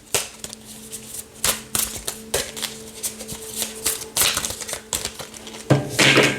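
Tarot cards being shuffled by hand, a series of sharp riffling snaps and taps at irregular intervals, close and fairly loud, with a faint steady hum underneath.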